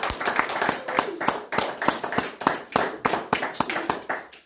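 A church congregation claps together to acclaim the Lord, a steady, rhythmic run of loud, sharp claps in a quick even beat, with faint voices underneath.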